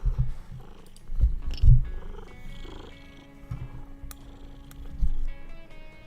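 A cat purrs steadily and close by while headbutting, a soft continuous rumble with a few louder low thumps as it rubs against someone.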